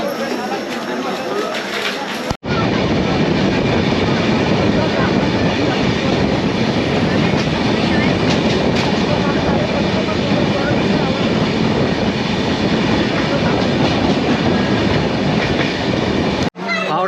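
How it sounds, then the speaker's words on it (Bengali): Saraighat Express passenger train standing at Bolpur station, with a continuous, loud rail-and-carriage rumble filling the clip between two brief cuts, and voices mixed in. "হাওড়া থেকে 145 কিলোমিটার পথ অতিক্রম করে এখন ট্রেন এসে দাঁড়ালো বোলপুরে।"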